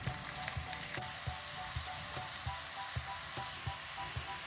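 Onions sizzle in hot oil in a pan, a dense, steady frying hiss with soft rhythmic stirring knocks every half second or so, close and without talk.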